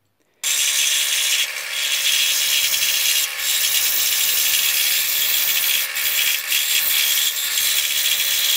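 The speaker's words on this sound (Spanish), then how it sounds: "lo que vamos a hacer es cortar trocitos de madera de marquetería de 3 milímetros para colocar encima" Small pieces of 3 mm marquetry wood being cut for a robot worm's frame, a steady close, loud rasping cut that runs almost without a break, with a few brief dips, and no talk.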